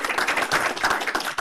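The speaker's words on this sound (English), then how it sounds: "Let's have a round of applause for George" An audience at a biotechnology conference applauds, a short burst of clapping with individual hand claps audible in a quick uneven patter, close and moderately loud.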